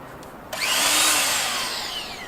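Large Makita power tool carving a privet bonsai stump, spinning up suddenly to a loud, close, whining roar as the bit bites into the wood.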